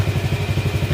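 A motorcycle engine runs steadily close by with a throbbing, pulsing low rumble and some light mechanical clatter, loud and continuous throughout without any voices.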